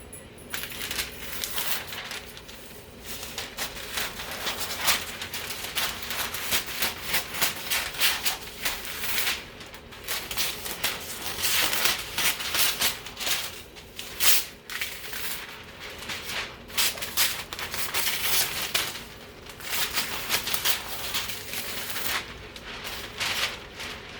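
Sublimation paper being cut while making silky socks, giving a continuous stream of crisp, dense snipping and rustling close by, with no talk.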